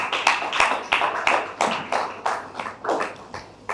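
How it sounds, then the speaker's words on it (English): Applause at a government scorecard presentation by commissioners and special advisers in Lagos, heard as a series of loud, close, irregular clap bursts with no talk. "so we deserve another round of applause"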